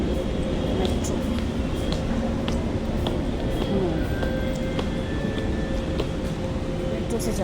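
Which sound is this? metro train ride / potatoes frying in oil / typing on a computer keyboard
metro train ride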